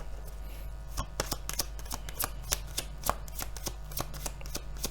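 Tarot cards shuffled by hand in a rapid series of crisp riffling snaps and slaps, close and alone, with no talk.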